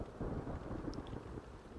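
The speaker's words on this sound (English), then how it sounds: "Thunder and lightning." In the city-building game Farthest Frontier, thunder rumbles low and faint amid a rainstorm, a soft rolling swell over steady rain with a few brief bright ticks.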